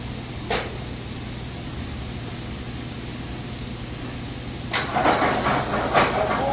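Pork cartilage stir-frying in a hot pan, seasoned with salt and pepper, giving a continuous hissing sizzle with short bursts of louder scraping and crackling near the start and end, close up and with no talk.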